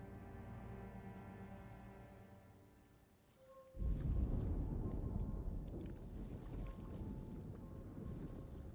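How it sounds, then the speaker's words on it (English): Water sloshing in a bayou in the video game Alone in the Dark: a quiet tonal music drone fades, then a sudden loud wash of churning water and wind-like noise rolls on steadily. "I hear a lot of water sloshing around."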